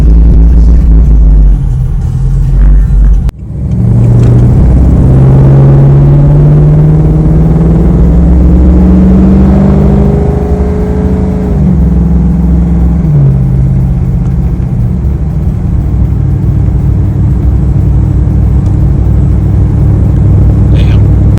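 A 2011-17 Chevy Caprice PPV police car drives on a test drive. Its engine rumbles low and loud close by, with a rising and falling hum as it accelerates, steady throughout.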